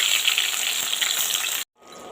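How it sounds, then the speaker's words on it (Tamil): Fennel seeds and cardamom sizzle loudly and steadily in hot oil for chana masala, a close, bright crackling hiss that cuts off abruptly and then returns more softly. "சோம்பு, ஏலக்காய் இதெல்லாம் சேர்த்து நல்லா வதக்கிக்கலாங்க."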